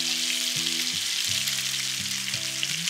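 Potatoes frying in hot oil in a pan give off a steady, dense sizzling hiss that runs the whole time. A soft tonal melody plays faintly underneath.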